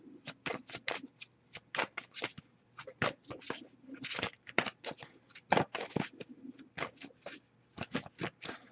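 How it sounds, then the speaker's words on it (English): Tarot cards being shuffled by hand, a quiet, close series of soft riffling flicks and taps repeating in irregular bursts with brief pauses between. "I'll give it a few more shuffles before we move on"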